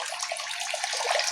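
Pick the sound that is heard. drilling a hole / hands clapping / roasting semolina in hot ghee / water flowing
water flowing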